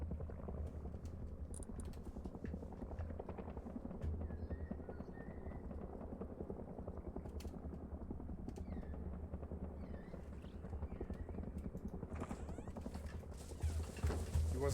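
Helicopter flying overhead in the video game Rust: a steady rhythmic rotor thump drones throughout, fairly distant and low, with faint game noises and occasional voices over it.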